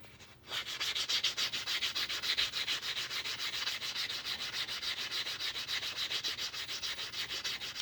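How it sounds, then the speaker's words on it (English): Rhythmic rasping strokes of sandpaper on the cut edge of a 1992 silver half dollar coin ring, quick and even back-and-forth rubs, close and alone after a brief quiet start. "Sand down this cut edge real quick."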